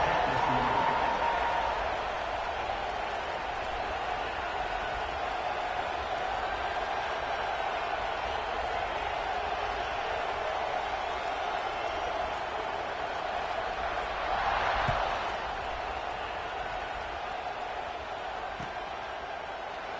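Stadium crowd in a college football video game, a steady roaring wash of cheering that swells briefly near the end, sustained and fairly loud throughout.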